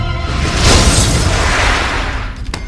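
A sci-fi plasma cannon fires as one loud, sustained booming blast with a rushing whoosh, holding strong for about two seconds before a sharp crack near the end.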